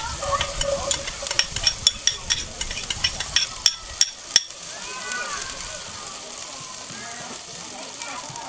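Shallot tossed into a teaspoon of butter in a hot Dutch oven, first a run of rhythmic stirring clicks, then a soft steady sizzle, with a voice talking over it.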